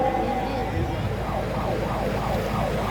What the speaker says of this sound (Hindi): लोगों को सावधान करने के लिए सायरन बजाया गया